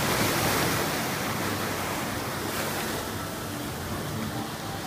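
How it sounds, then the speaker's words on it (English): Ocean waves washing over a cliff walk at high tide, a continuous broad rushing surf with wind noise, fairly loud and steady, easing slightly toward the end. "the waves were rolling up over the walk"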